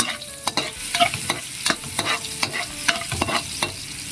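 Garlic fries in hot oil for chicken adobo, a steady close sizzle broken by repeated scraping strokes of a spatula stirring in the pan.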